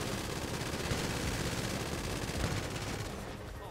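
Dense, continuous gunfire rattles through a GTA 5 shootout, rapid overlapping shots forming a steady wash of noise that fades slightly at the end.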